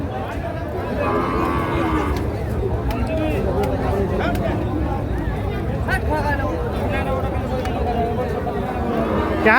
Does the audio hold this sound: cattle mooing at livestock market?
yes